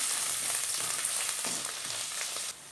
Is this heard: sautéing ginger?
yes